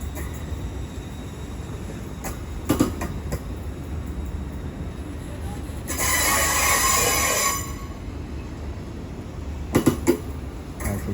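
A train at a London terminus, the 13:33 to Bristol, sits with a low steady rumble, a burst of hissing air midway and a few sharp metallic clanks around it.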